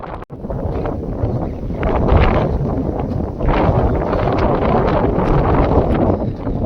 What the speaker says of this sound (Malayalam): കാറ്റ് കാരണം, തണുത്ത കാറ്റ് കാരണം